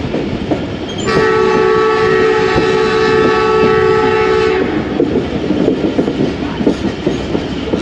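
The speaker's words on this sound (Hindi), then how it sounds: "ज़बरदस्त सा विसल दिया ड्राइवर साहब ने।" A passenger express train's horn blows one long, loud steady blast for about three and a half seconds at Raiwind Junction in Pakistan, over continuous rumbling and clattering of the moving train.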